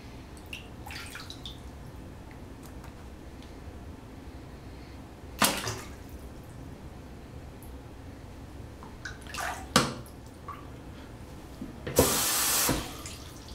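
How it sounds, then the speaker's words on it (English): Water runs and drains in a sink during a waterproof iPhone case test, a soft continuous trickle broken by several sharp splashing bursts, the longest near the end, with no talk. "We'll drain the sink here."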